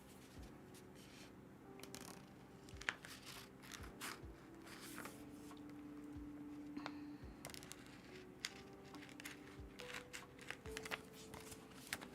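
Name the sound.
cutting apart a heat transfer vinyl design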